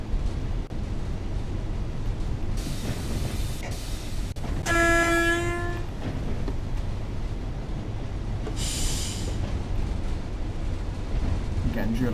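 A Class 31 diesel locomotive in Train Sim World drones steadily along the track, sounding one clear two-tone horn blast partway through, with a soft hiss later on.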